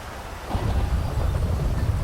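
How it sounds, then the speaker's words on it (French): A heavy rainstorm with thunder heard during a motorcycle ride, a deep low rumble rising after a brief moment and holding steady under a dense wash of rain noise. "c'est une grosse tempête, il pleut beaucoup"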